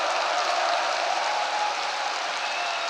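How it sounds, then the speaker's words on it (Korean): A large congregation at a Korean Unification Church rally gives a sustained, even round of thankful applause, a dense, continuous roar of clapping with no pauses. "다시 한번 뜨거운 감사 박수를 올리겠습니다."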